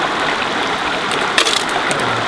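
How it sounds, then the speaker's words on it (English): Water poured into a gold pan holding a handful of dirt while panning for gold in the hills: a steady splashing gush lasting the whole moment, with a brief clatter near the middle. "Put some water in it."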